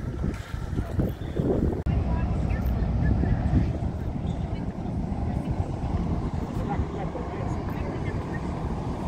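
A passenger ship's engines running with a deep, steady low rumble, close and continuous, with wind buffeting and faint voices over it while the vessel moves on the water.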